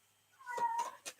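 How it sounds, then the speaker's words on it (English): A cat meows indoors in a quick run of two or three short, close calls, the middle one drawn out and rising, with no talk over it. "Now he's meowing."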